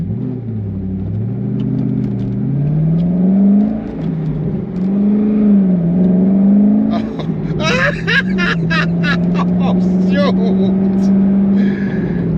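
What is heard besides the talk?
2006 Chevrolet Corvette C6 engine revving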